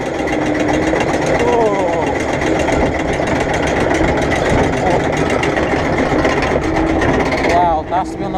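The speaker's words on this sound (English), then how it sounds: "that has to be on the loudest lift hills in the UK, that, on the log flume" Log flume lift hill on the Timber Falls ride at Pleasurewood Hills, a loud continuous mechanical clatter and rumble of the chain lift heard from on board, steady throughout with a brief exclamation over it.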